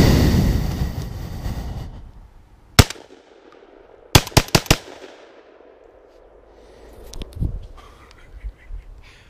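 A TriStar semi-automatic 12 gauge shotgun fires outdoors: one sharp blast, then a quick string of several more shots, each followed by a rolling echo, with softer rumbling reports later.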